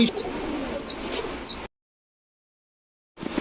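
An American Lakkha pigeon pair gives soft repeated coos against a busy loft background, three short rising calls spaced about a second apart, followed by sudden silence.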